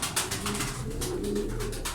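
A flock of smoky tumbler pigeons keeps up a low, rolling coo nearby, overlapping voices forming a steady murmur with faint rustling and no speech.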